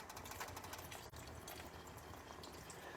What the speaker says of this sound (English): I'm going to add the veggie broth